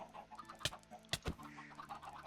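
Minecraft chickens cluck in short, quiet bursts, a few sharp clucks standing out over a low game background, with no talking.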